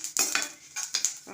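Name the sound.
curry leaves added to hot pan, stirring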